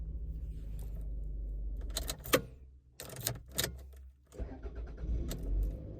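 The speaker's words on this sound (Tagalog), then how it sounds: "Start ang engine." A 2001 Toyota RAV4 engine turns over and catches, its low idle rumble running steadily underneath with a few sharp clicks and brief bursts layered on top, heard close with no talking.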